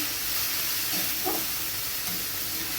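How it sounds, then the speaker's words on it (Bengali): Shredded cabbage fries in a pan after salt goes in, a continuous close sizzle and hiss with the soft scrape of a spatula stirring midway. "লবণটা দিয়ে আমি আবারও ভালো করে ফুলটি দিয়ে নেড়ে নিচ্ছি"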